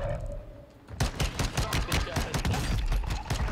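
Rapid, loud video game gunfire erupts after a quieter opening second, with sharp shots rattling in quick succession during a shootout.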